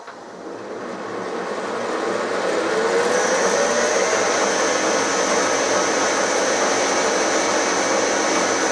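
A 16U04P lathe fitted with a frequency drive spins up on its first run with no cutter or workpiece, its motor whine rising over about two seconds and then holding as a loud, steady hum with a high tone.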